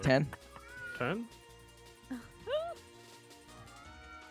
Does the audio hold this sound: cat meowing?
yes